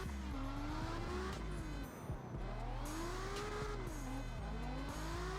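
A car drifting in CarX Drift Racing Online 2, its engine revving high and wavering as tires squeal continuously, loud and steady the whole time.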